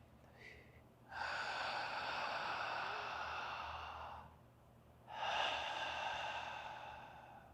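Slow, deep breathing close to the mic: a short sniff, then a long smooth inhale through the nose, a pause, and another long breath, airy and unhurried with no speech.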